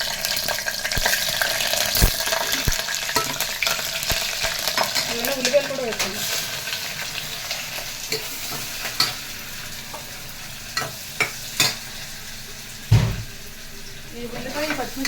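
Green chillies sizzling in hot oil in a pressure cooker while being stirred, a steady close frying hiss with occasional scrapes and clinks throughout.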